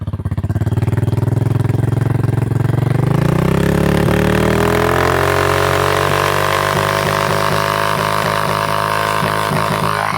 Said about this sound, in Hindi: थोड़ी सी रेस दूंगा और मिसिंग स्टार्ट कर देगी